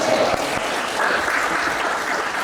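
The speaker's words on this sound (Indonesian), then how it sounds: "Kasih aplaus untuk Mas Raffi." A small group claps for a student during a Quran-reading lesson, giving a short burst of close, brisk applause that lasts a couple of seconds and then fades into a quieter patter.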